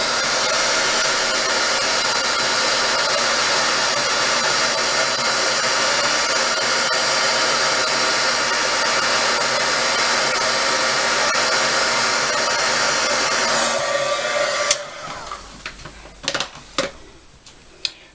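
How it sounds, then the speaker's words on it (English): A heat gun melts embossing powder on a stamped card, blowing a steady loud whir for about fifteen seconds before it switches off, followed by a few faint clicks and taps. "So now I'll go ahead and heat emboss that as well."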